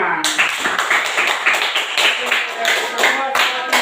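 A classroom of students applauds in unison, brisk rhythmic clapping close and loud throughout, with some chatter mixed in.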